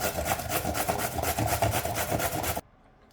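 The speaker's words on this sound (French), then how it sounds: "après vous avoir râpé les carottes, vous obtenez ceci" Carrots are rubbed against a hand grater in a steady, rapid rasping scrape that runs loud and close for a couple of seconds, then stops abruptly.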